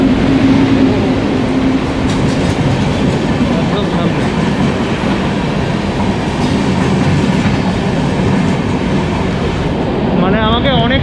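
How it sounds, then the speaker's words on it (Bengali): A passenger train pulling into a station, a loud, continuous rumble with rail clatter lasting throughout, up close, with a brief tonal squeal near the end. "ট্রেন চলে এসছে মনে হয়, এটাই এই ট্রেনে করেই যাব"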